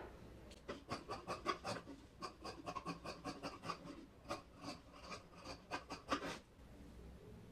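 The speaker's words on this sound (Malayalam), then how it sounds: "ഇനി നമുക്കിത് കട്ട് ചെയ്യാം" Scissors snipping through fabric while cutting out a child's crop top, a steady series of close, crisp cuts in quick bursts with short pauses, no talking.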